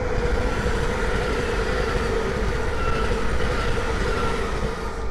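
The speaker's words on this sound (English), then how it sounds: "the next train to pass by is a pair of Great Northern 307s from King's Lynn to London King's Cross" A pair of Great Northern class 307 electric units passing at Great Wymondley on the East Coast Main Line, a loud, steady close rumble and roar lasting the whole stretch with no talk.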